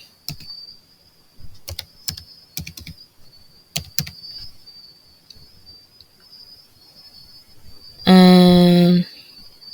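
Scattered keyboard key presses while a mobile money number is entered for a payment, sharp clicks spaced irregularly over a steady high insect-like whine, then a loud tonal beep near the end.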